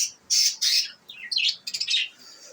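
A budgerigar chirps close by, giving a quick run of bright, squawky calls and short trills in a quiet room with no talking.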